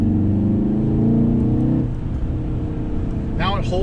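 A new Volkswagen car driven in race mode gives a steady, tonal engine hum that holds for a couple of seconds, then settles into a rougher road rumble, with a brief voice near the end.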